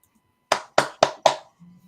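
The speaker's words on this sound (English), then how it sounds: "I don't know why I'm clapping" Four sharp hand claps in quick, slightly uneven succession, close and dry, followed by a faint murmur of a voice.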